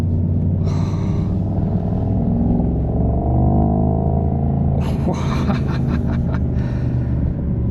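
A 2025 Mercedes-AMG GT 63 coupe with its V8 engine driving, a loud continuous low rumble inside the cabin rising in a brief rev, with a few bursts of human vocal sounds over it.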